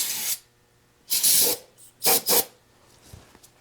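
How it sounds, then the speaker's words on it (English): Carb cleaner sprayed into the carburetors of a Honda Shadow VT1100 motorcycle, heard as three or four loud, close hissing bursts of aerosol, the first about a third of a second and the later ones slightly longer, separated by quiet gaps. "I want to spray some carb cleaner into the carbs"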